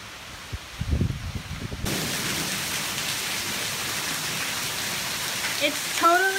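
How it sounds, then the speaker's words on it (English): Hailstorm during a thunderstorm, a dense steady clatter of hail and rain striking surfaces nearby, starting abruptly after a brief rumble and continuing loud and even, with a voice briefly heard near the end. "It's totally hailing now."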